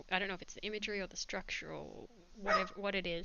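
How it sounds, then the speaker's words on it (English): A small dog barking in the background of a home live drawing session, a few faint yips beneath a person talking steadily up close. "You can hear her barking in the background."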